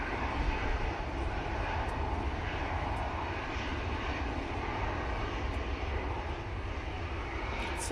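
A KLM airliner at windy Manchester Airport sends out a steady broadband engine roar of moderate loudness, sustained without a break across the whole stretch.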